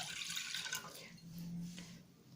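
A glass of water is poured into a container holding cloves for a clove and garlic home remedy, giving a faint, close, continuous trickle and splash with no voices.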